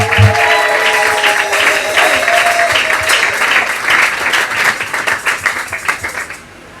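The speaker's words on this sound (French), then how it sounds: "est-ce que vous pouvez acclamer pour l'Éternel?" A church congregation breaks into loud, sustained applause and cheering praising the Lord, dense clapping filling the room before thinning into scattered claps and fading out at the end.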